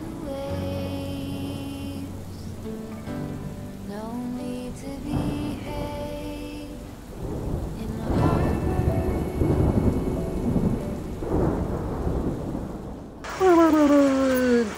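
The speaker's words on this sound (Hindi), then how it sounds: "इतनी बारिश हो रही है ना" Heavy rain pours steadily on a hillside tent campsite with rumbles of thunder rolling through, loud and continuous, and a brief wailing sound near the end.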